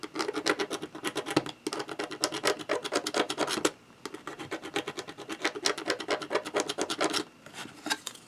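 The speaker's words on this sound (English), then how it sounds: "going along the edges here and seeing if I can scrape any of that stuff off there" Residue is scraped off the edges of a school bus emblem with short, rapid rasping strokes in repeated bursts, close and fairly loud, with a brief pause midway.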